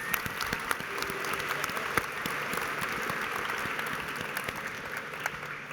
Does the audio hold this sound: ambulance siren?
no